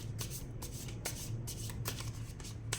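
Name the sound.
drawing a tarot card from the deck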